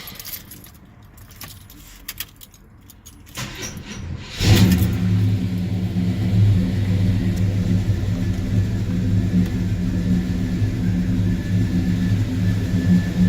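A 1972 Monte Carlo with a quadrajet carburetor cranks after a few seconds of key jingling, catches about four and a half seconds in, and settles into a steady, loud, rumbling idle that runs to the end.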